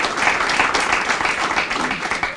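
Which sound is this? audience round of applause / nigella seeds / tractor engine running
audience round of applause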